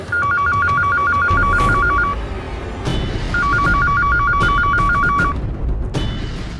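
A telephone rings loudly in two long electronic bursts separated by a short pause, with no voices over it.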